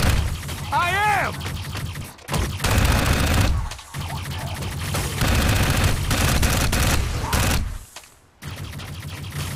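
Rapid gunfire exchange in the Dark Void video game on Xbox 360, loud bursts of shots and shattering impacts in dense clusters with brief gaps, with talk in between.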